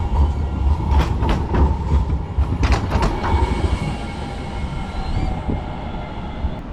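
An old tram in Rotterdam rolls past nearby, a steady low rumble of wheels on rail with a few sharp metallic clacks and squeals, loud and continuous outdoors.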